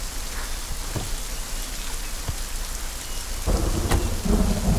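Steady heavy rain pours over a film scene with thunder, the downpour hissing continuously and a deep rumble and crack swelling louder near the end.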